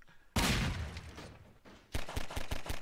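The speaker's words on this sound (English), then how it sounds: "There's bullets flying everywhere." Gunfire in Garry's Mod erupts in a loud burst that decays, then returns as a rapid string of close, punchy shots near the end.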